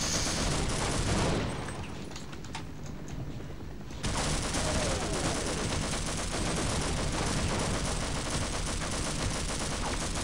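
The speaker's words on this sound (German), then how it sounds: "ich hau mal eben so 50 Schüsse auf einen" Rapid automatic gunfire from a weapon in the video game Half-Life, a dense, continuous rattle of shots that briefly thins out before resuming loud and sustained to the end.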